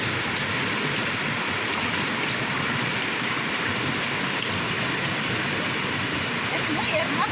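River water rushing steadily in a natural setting ringed by rocky cliffs, a loud, constant broadband roar with no breaks throughout.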